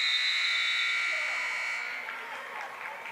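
A long electronic buzzer sounds at the end of a women's college basketball quarter, loud and sustained before fading into arena crowd noise.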